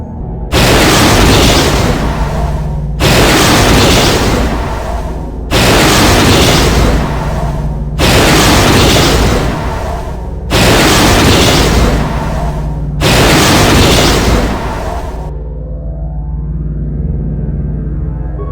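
Repeated loud, full-band explosions in the video game Star Wars: Knights of the Old Republic as the Star Forge is destroyed, six heavy booming blasts in steady succession, then a lower lingering rumble as they fade.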